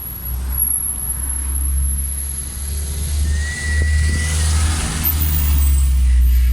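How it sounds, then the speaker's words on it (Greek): Car passes by outside a house at night, a low rumbling engine swelling and fading over several seconds beneath a quiet background with faint high whines. "Αυτοκίνητο είναι ρε χαζέ μου"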